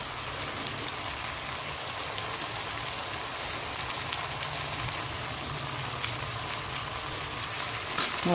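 Chicken sizzling and frying in a pan once spices such as ginger paste, garlic paste and cumin paste go in, a steady dense crackle like rain holding evenly throughout with a brief louder clatter near the end.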